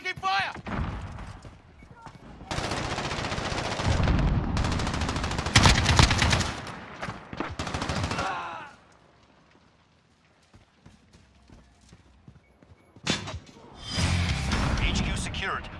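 Gunfire in the Call of Duty: Modern Warfare video game, long loud bursts of rapid automatic shots with a quieter lull in between, mixed with game voices calling out.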